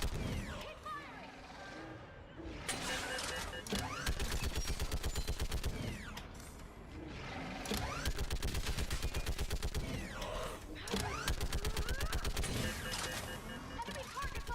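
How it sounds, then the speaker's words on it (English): Sustained gunfire in the Mass Effect 3 video game: rapid automatic weapon bursts in long stretches, dense and loud, broken by short pauses and mechanical clatter during a battle on a bridge. "Keep firing!"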